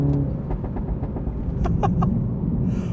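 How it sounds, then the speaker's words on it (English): Exhaust on a stage 1 tuned MINI F54 Clubman Cooper S pops and crackles in a rapid irregular series of sharp bangs over a low engine burble, close and fairly loud. "Okay, the popping is beyond ridiculous."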